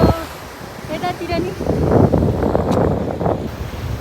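Wind and waves on a Japanese island seashore, with gusts buffeting the microphone over the wash of surf, while people talk nearby.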